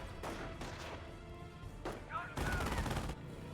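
Autocannon fire during a Company of Heroes World War II strategy battle sounds as dense, rapid bursts of heavy gunshots and thuds, loud and layered with other combat noise.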